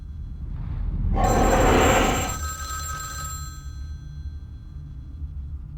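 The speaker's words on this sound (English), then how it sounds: "Will that phone just ring always until I pick it up?" A telephone rings in the video game Vampire: The Masquerade - Bloodlines, a bright metallic bell trill that swells loudly for about a second over a steady low hum, then fades while the background drone continues.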